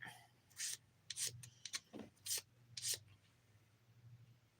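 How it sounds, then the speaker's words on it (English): The 100 grit side of a nail file rasps across fingernails in short, quiet, irregular strokes, each a brief scratchy burst separated by pauses, against a faint low hum. "I've noticed that I like the 100 grit side of this file better than the 180"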